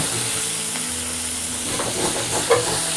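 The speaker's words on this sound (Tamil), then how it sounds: "நல்லா அடியில் கரண்டியை விட்டு சுரண்டி" Pepper chicken cooking in a pan while a ladle scrapes the bottom and stirs, heard as a loud, steady sizzle and hiss with soft scraping strokes and a clink near the end.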